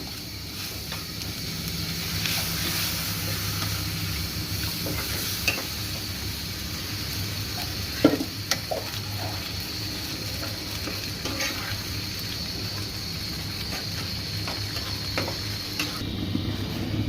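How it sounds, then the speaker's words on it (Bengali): Chicken being stirred in a frying pan, a steady close sizzle with scattered scraping clicks from the utensil running throughout, no voices. "চিকেনটার সাথে একটু নাড়াচাড়া করে নিয়ে আমি দুধ দিয়ে দেব"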